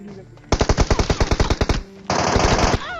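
Automatic gunfire in a shooter video game, a loud rapid burst of evenly spaced shots, a short pause, then a second dense burst of fire.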